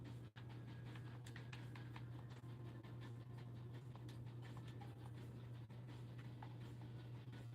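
Soft, rapid keyboard tapping patters in an irregular run over a steady low electrical hum, quiet and close.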